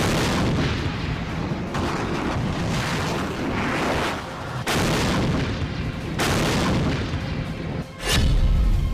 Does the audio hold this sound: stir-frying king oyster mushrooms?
no